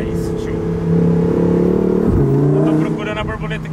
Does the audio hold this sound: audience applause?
no